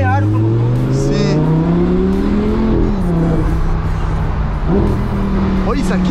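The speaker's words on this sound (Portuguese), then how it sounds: "a reduzida desse carro aqui é muito bonita" Audi R8 convertible engine droning loud and close in Balneário Camboriú, its pitch sliding down through a gear change with a second drop near the end, while people talk over it.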